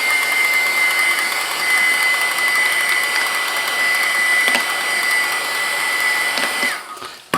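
A heat tool blows steadily to warm watermark ink, a constant whirring hum with a thin high whine that runs evenly for several seconds before cutting off abruptly near the end.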